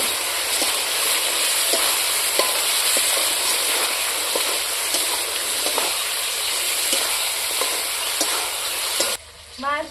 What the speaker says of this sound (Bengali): ধনিয়া জিরে বাটাটা দিলাম আদা আর রসুন বাটা দিলাম ভালো করে মিক্স করে নেবো